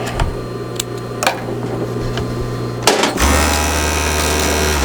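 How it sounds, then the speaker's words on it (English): A serger overlock machine hemming a wool shirt gives a steady mechanical hum with ticking stitches. A few clicks come first, then the motor starts and whirs loudly and continuously up close, with no talking. "the last step on the serger is to go down and do the hem itself"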